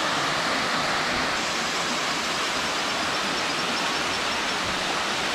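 A waterfall on the Colombian Caribbean coast roars steadily, a dense, even wash of falling water filling the whole stretch with no talk over it.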